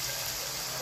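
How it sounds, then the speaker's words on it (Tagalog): Hot water pouring steadily into a pan of pork cooking for Filipino pancit guisado, a continuous rushing gush with no breaks and no voices over it. "mag-add tayo ng mainit na tubig para sa pagpapalambot ng ating karne ng baboy"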